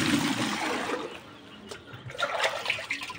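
Water pours into a container on a poultry farm, measured out by the liter for watering: a broad steady gush that thins into a trickle, then splashes and rises again toward the end.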